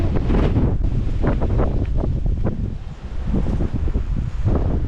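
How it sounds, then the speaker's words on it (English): Strong wind buffets the microphone at Cape Bailey Lighthouse on a sandy coastal headland, a constant loud rumbling roar with gusting surges and no voices. "It's a bit windy"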